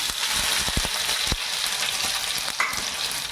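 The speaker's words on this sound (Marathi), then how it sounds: "आता आपण लसूण टाकून घेऊ तेला लसूण टाकल्यावर अद्रक टाकू" Garlic dropped into hot oil for prawn biryani, a loud steady crackling sizzle up close with a few knocks of the spoon against the pan.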